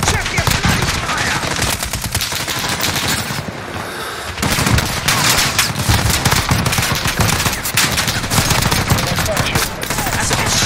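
Sustained automatic weapons fire in Call of Duty Modern Warfare, loud rattling bursts with a brief lull before resuming, mixed with shouted voices.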